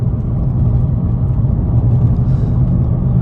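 A VW Polo with a DSG gearbox accelerating to overtake on a long highway drive, a steady loud low engine and road rumble heard from inside the cabin, with no talking.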